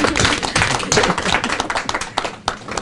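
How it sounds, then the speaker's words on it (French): An audience applauds at an official event for a Congolese minister of rural development, dense, uneven clapping with sharp individual claps throughout. "On va vous applaudir."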